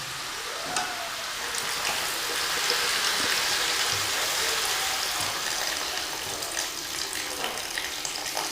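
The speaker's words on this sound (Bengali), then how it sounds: "এখন আমি এতে পরিমাণ মতন একটু জল দিয়ে দেব।" Water is poured into a pan of cooked jackfruit curry, a soft, steady splashing and trickling that swells in the middle and then eases, heard close with no voices.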